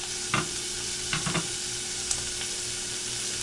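Onions sauté in a pan for picadillo with a steady, close sizzle and a few light stirring clicks, and no voices.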